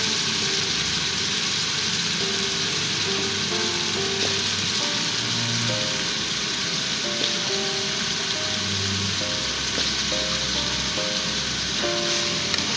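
Half a kilo of potatoes added to a hot pan with green chickpeas, giving a loud, continuous sizzle and crackle close by, steady throughout with no talking.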